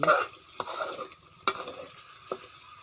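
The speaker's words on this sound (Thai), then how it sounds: "เราจะต้องผัดให้เขาหอมพริกเริ่มเปลี่ยนสี" Chili peppers being stir-fried in a pan, with a soft continuous sizzle broken by a few sharp scrapes and knocks of a utensil against the pan at irregular intervals, close up and with no voices.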